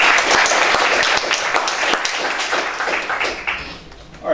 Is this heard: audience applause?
yes